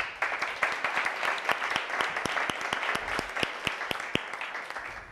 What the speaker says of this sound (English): A great round of applause for Lydia.